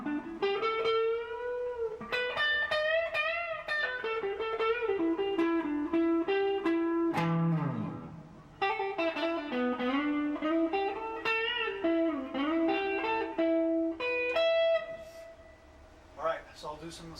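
Clean electric guitar from an Epiphone Les Paul played through a 1-watt tube amp into an 80-watt cabinet at half volume, with undistorted sustained chords and melodic single-note runs ringing steadily for the whole stretch.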